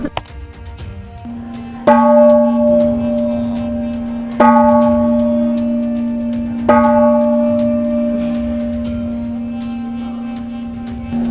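A temple bell at Mahamuni temple in Myanmar rings with three loud, evenly spaced strikes, each leaving a long, sustained metallic hum that slowly fades before the next hit.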